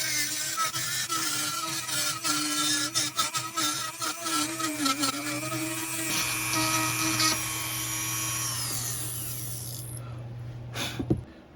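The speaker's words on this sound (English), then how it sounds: "I'm going to do that with a rotary tool hooked to my Dremel" A Dremel rotary tool drills into a plastic solar camping light housing, a steady high whine with harmonic layers that shifts in pitch as the bit bites, running close and loud without voices before winding down near the end.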